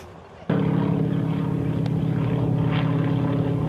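Excursion propeller airplane in flight, heard from inside: after a brief quieter moment, a loud, steady engine and propeller drone kicks in with strong low harmonic hum and continues without a break.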